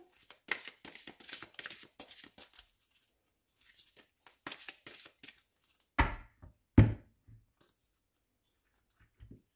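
Cards for a rune card reading shuffled and cut on a table, quick papery riffles in short clusters, then two sharper slaps as the deck is cut, close and quiet with no talk.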